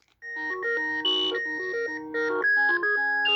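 Electronic melodic ringtone from a GE 28214KE2-A telephone, a bright sequence of sustained synthesized tones stepping through a tune, loud and close with no talking.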